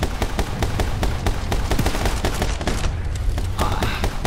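Uzi fire in the side-scrolling action game My Friend Pedro: rapid, steady bursts of automatic gunshots, loud and continuous, with game effects layered beneath.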